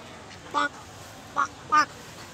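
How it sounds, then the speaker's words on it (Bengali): Ducks on a pond at Dakshineswar give three short, nasal quacks, the last two closer together, fairly near and clear over a quiet outdoor background. "এই তো হাঁসও আছে"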